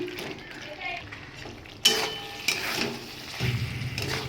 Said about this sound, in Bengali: এবার কিন্তু ভেজে রাখা কফিগুলো আমি দিয়ে দিচ্ছি।